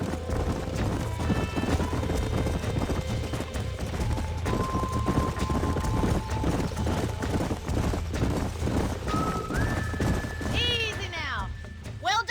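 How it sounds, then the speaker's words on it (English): Horses trot and neigh on a ranch in the video game Red Dead Redemption: a steady, close clip-clop of hooves runs throughout under faint game music, with a whinny near the end. "These are fine horses."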